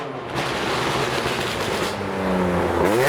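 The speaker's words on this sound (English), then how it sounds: "I'm at the exit to capture the loud cars leaving" A loud car engine roars and builds as it accelerates away from a car show, rising in pitch near the end, with a constant rough rumble throughout.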